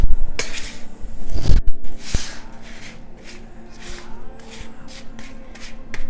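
Spiced pecans are spread across a baking pan, making a rustling, shuffling rattle with a few sharper clatters early on, then a softer scattered scraping, all at close range.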